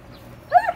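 A wolfdog puppy lets out a short, close whimpering yelp with a rising, squeaky tone, about two quick pitched bursts after a stretch of quiet background.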